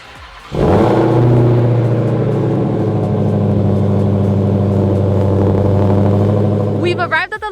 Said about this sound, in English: let's get the cold start of the Hellcat